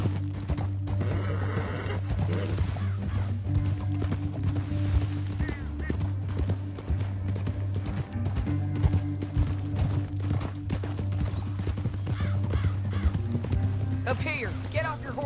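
Horses gallop with steady clip-clop hoofbeats in the Western video game Red Dead Redemption 2, running continuously under a low rumbling score while characters talk over the ride.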